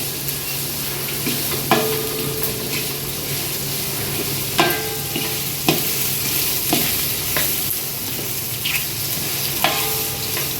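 Onions frying in a pan for mushroom pulao, with a steady close sizzle throughout and repeated scraping stirs of a utensil against the pan every second or two, no talking.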